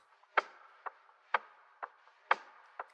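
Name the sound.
lo-fi textures with hi-hats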